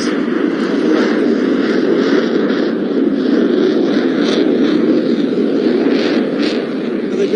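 A Czech Air Force Gripen fighter jet makes a slow, high angle-of-attack flypast at an airshow, producing a loud, steady roar of jet engine noise that holds at the same level throughout.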